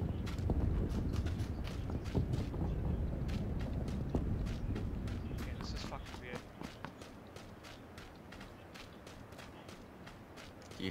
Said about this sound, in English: you hear two pairs of footsteps right now.